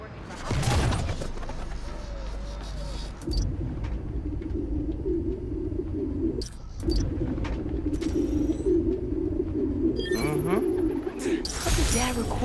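Pigeons coo in a park recording within Spider-Man: Miles Morales, soft repeated coos running under game sound effects, occasional booms and bursts of talking.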